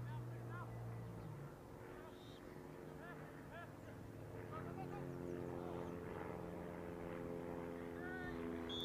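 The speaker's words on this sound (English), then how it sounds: "As the Spitfire soars overhead." A Spitfire propeller plane passes over a football match between Napier Marist and Gisborne Thistle. Its engine makes a steady droning hum throughout, moderately loud at a distance, with faint voices underneath.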